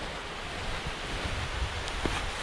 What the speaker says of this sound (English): All these little mini waterfalls.